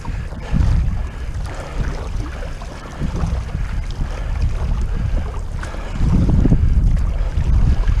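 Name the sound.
wind while paddling a SUP board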